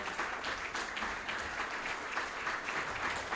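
Steady audience applause at a literary talk event, a continuous, fairly faint wash of clapping from a seated crowd with no voices over it.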